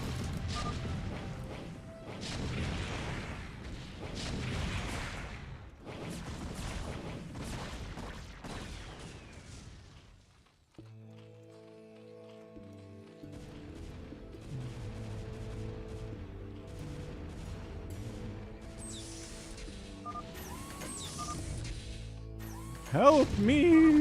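Heavy siege tank cannon fire and crashing impacts during a StarCraft: Brood War battle, booming blasts repeating in bursts through the first half, then mixed game effects and music-like tones, with commentary talking over them.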